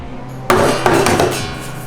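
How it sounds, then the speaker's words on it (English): A one-inch steel carbide ball weighing 143 grams dropped from 18 inches onto the back of a guitar, a single sharp close knock followed by a brief second bounce and a short ringing decay. "dropping a 1-inch steel carbide ball 18 inches onto the top and back of the guitar"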